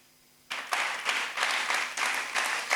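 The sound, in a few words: audience applause in church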